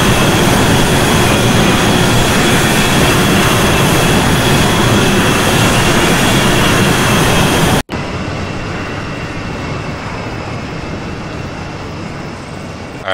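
An aerial support plane in a video game flies overhead, a loud continuous jet-like roar that drops abruptly to a quieter steady drone partway through.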